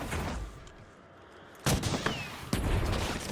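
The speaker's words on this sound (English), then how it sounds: "The M60 will certainly get me a kill." M60 machine gun fired in a zombie video game, heard as two sharp bursts of gunfire that end with a lingering crackling tail, loud over a faint background.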